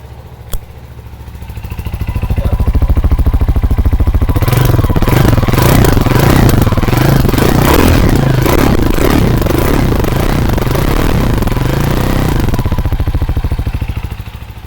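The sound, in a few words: CFMOTO CLX 250 motorcycle engine and exhaust sound test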